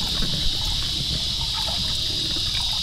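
Water trickles and splashes steadily as a soaked block of coconut husk reptile substrate is squeezed out by hand, close and continuous for a few seconds.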